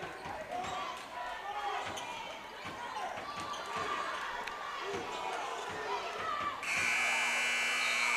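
At a Jonesboro versus Drew basketball game, shoes squeak and a ball bounces amid crowd noise before a loud, sustained electronic buzzer sounds at the end of the quarter.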